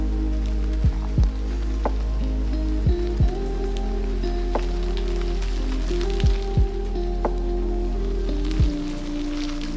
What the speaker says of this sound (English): the rain seemingly out of nowhere pouring